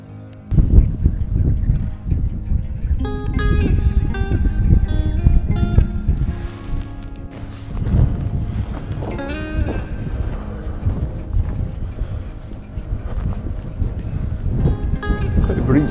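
Steady gusting wind roars across an outdoor microphone on Doon Hill above the Firth of Forth, between two storms, with a person speaking intermittently over the blustery noise.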